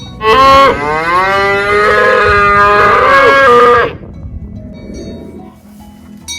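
A nurse cow lets out one long, loud, drawn-out moo close by during calf weaning, followed by quiet shuffling in the background.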